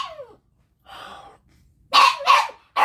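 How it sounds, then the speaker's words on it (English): A small dog barks sharply and close by, a few separate yips and barks with short silent gaps between them. "Look, little dog, shut up."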